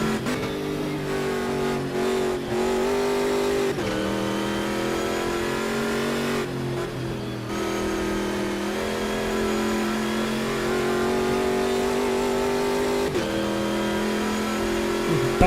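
A car engine in the Forza Horizon racing game revs and holds high during an off-road run, with a loud, continuous drone and a few brief dips as gears shift.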